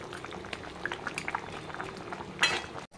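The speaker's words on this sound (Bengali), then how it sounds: "একটু ফুটবে।" Fish curry with eggplant bubbling in a pot on the stove, a steady close simmer with popping bubbles and a brief louder burst near the end, no talking.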